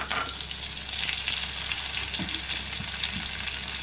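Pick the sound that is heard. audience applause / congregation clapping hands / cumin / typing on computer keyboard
cumin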